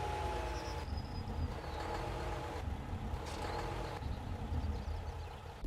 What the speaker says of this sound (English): And there's a proper truck sound on it.